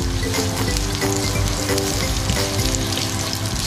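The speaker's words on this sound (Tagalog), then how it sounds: "Para parang stir fry ang dating ng spinach." Spinach stir-fries with garlic and onion in a hot pan, a loud, dense, continuous sizzle that holds steady throughout.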